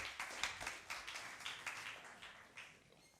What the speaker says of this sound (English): give them a round of applause. Keno Dreßel and Philipp Piwo.